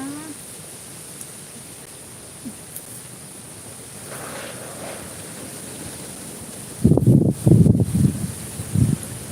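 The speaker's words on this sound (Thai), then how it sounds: "ลมแรงมาก" Strong storm wind gusting outdoors while plants are being watered, a steady broadband roar with heavier buffeting bursts toward the end.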